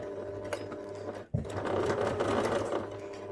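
A sewing machine runs steadily, stitching through fabric for a teddy bear, with a brief pause before it resumes with a few reverse stitches at a constant mechanical whir.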